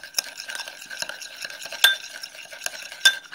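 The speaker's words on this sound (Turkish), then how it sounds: "Şimdi bunu karıştırıyorum." Slime mixture stirred in a bowl, producing a steady stream of soft wet scraping and clinking strokes, close and moderately loud with occasional sharper knocks against the container.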